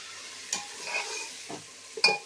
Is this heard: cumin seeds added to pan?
yes